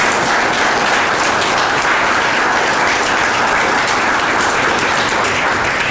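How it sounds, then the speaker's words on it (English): A crowd at a Vietnam veterans pinning ceremony delivers loud, sustained applause, a dense, even roar of clapping that holds steady for the whole stretch with no talking over it. "Veterans, let's give our families a big round of applause for their sacrifice and thank them"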